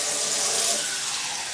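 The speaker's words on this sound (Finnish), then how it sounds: "Mä tässä virutan jo vähän kylmää vettä itselleni." Cold water runs from a kitchen tap in a steady, close, even rush of splashing, with no voices over it.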